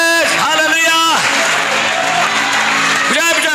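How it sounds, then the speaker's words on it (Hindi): Applause during a Hindi-language church worship service, with broadband clapping filling the middle stretch while a preacher's loud sung and shouted voice rises over it at the start and end. "बजाओ बजाओ बजाओ तालियां"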